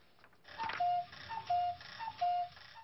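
Traditional mechanical clocks, the old wall and mantel kind, heard chiming: a few sustained bell-like tones repeating in a steady pattern, fairly clear over a soft background with no talk.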